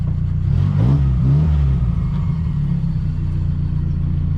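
A car engine idles through a straight-through muffler with a deep, steady rumble and a throaty exhaust note, briefly rising in pitch early on before settling.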